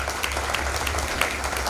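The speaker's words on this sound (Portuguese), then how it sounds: "Muito bem, salva de palmas." A crowd at an anti-drug talk in a town gathering claps briefly in a dense, even burst of applause heard fairly close, with a hint of voices mixed in.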